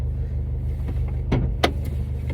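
A 2007 Honda Civic Si with about 292,000 miles gives off a steady low engine drone overlaid with a loose rattle and a few sharp clicks and knocks partway through.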